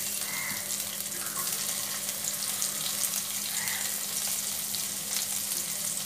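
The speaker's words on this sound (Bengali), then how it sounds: "এবার দিয়ে দেব দুটো তেজপাতা। আর যে পেঁয়াজটা বাকি ছিল সেই পেঁয়াজটা এর মধ্যে দিয়ে দেব।" Bay leaves and onion frying in oil, a soft continuous sizzle with faint clinks and running-water-like hiss, no talking.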